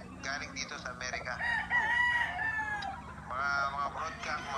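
Several roosters crow repeatedly at a gamefowl farm with imported and local birds, overlapping calls near and far, with clucking and someone talking softly in the background.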